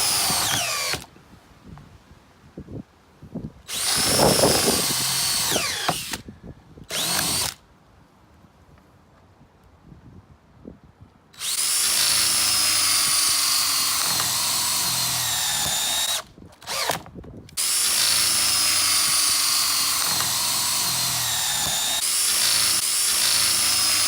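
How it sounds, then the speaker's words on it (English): A power drill fitted with a 1.5 inch Forstner bit bores holes in wood, loud sustained whining runs broken by pauses and short stop-start bursts, close up with no talk. "I'll be using a Forstner bit to drill out the holes."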